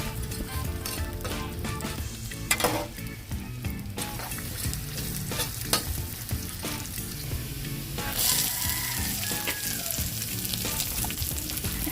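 Garlic, ginger and onion sautéing in a pan, a constant close sizzle and crackle of frying with intermittent stirring scrapes, no voices over it.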